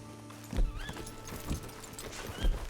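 A horse's hooves strike in Red Dead Redemption, with heavy rhythmic thuds roughly once a second and faint whinny-like tones between them, alone and with no talk.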